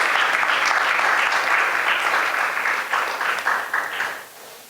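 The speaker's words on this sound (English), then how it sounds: "let's hear a big round of applause for them and congratulate them" A big round of audience applause at an ISKCON Chicago temple community appreciation event, a thick, even wash of clapping from a large crowd that holds for about four seconds before tapering off.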